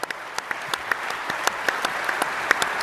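Audience applause in a conference hall for long-tenured colleagues at a general session, a steady patter of many hands clapping at moderate distance with a few sharper individual claps standing out.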